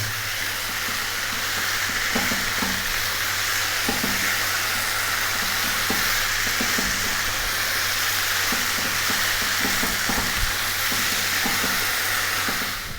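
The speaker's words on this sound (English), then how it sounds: "2 minutes of stirring, it's done." Chopped tomato is stirred into liver and potatoes frying in a pan, giving a loud, continuous sizzle broken by repeated scrapes and taps of the spoon, with a low steady hum beneath.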